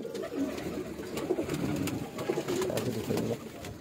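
A Shahzada breed pigeon on a rooftop coos in repeated soft, throaty phrases close by, over a steady low background murmur.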